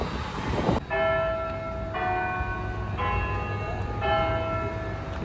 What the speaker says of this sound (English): and the church bells in the distance